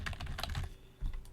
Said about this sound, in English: So if I type in host name on the command line